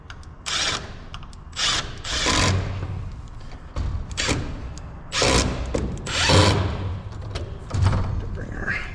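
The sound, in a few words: power driver driving screws into a wall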